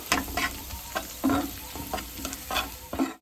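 Ground turmeric, cumin and coriander powder are stirred into sizzling masala in a pan, with a steady frying hiss broken by repeated scraping strokes of a spoon at an uneven rhythm, close and moderately loud, with no talking.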